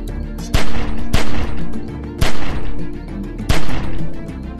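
Gunfire in The Walking Dead video game: four loud, sharp gunshots ring out at irregular intervals, each with a short echoing tail over a low ambient hum.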